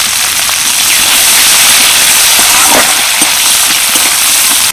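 Chopped onion and garlic fry in hot oil in a kadai, a loud, steady, close sizzle that hisses continuously like rain before cutting off abruptly at the end.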